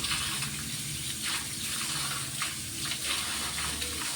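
Cowpea beans being washed one by one in water, with a constant close splashing and running-water wash broken by soft irregular swishes.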